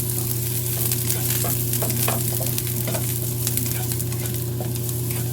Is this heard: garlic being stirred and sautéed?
yes